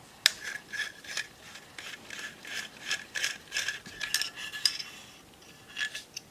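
A hex key works on a SSP18 carbine kit, making repeated light metallic clicks and ratcheting ticks up close, in an irregular rhythm with no talking.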